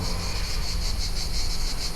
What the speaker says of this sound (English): I'm in amongst the cicadas outside the Catacombs of Paphos.